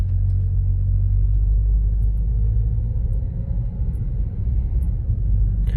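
A 2011 Acura TSX drives at town speeds after a transmission pressure switch repair, giving a steady low engine rumble and road drone heard from inside, with no distinct shift break and no voices.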